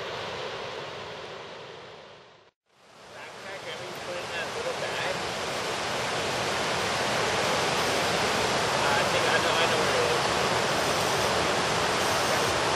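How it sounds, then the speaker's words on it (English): A steady, loud roar of rushing river water fills the scene, briefly cutting out near the start before swelling back continuously. "Right by the rushing river."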